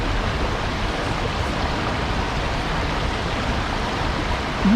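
A river or stream flows steadily in a continuous broadband rush of water, constant and fairly loud throughout with no pauses.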